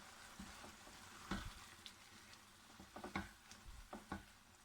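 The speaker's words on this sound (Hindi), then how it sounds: "ये 2 से 3 मिनट हो गए मुझे इसको फ्राई करते हुए।" Chicken and vegetables frying in a pan for pasta, a soft steady sizzle broken by several sharp utensil taps and scrapes, close and fairly quiet.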